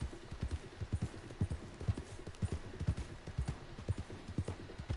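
Horse hooves clip-clop at a steady walking rhythm in the video game Red Dead Redemption 2, set in the 1899 Wild West. The footfalls are soft and fairly distant over a low background, with no speech.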